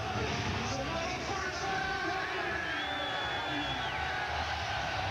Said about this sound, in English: And this crowd, listen to this crowd, man.